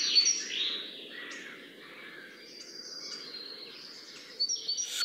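A great tit calls in a hedgerow among other distant birds, with faint, intermittent chirps over a steady hum of insects or background noise.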